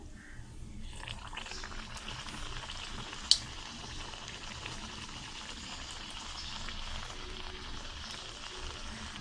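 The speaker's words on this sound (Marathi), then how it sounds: "अशा पद्धतीत मंद आचेवरतीच आपण ही सगळे अनारसे तळून घेणार आहोत." Anarse, traditional Diwali sweets, deep-frying in oil over a low flame: a soft, steady bubbling sizzle that stays even and close, with one brief sharp tap near the middle.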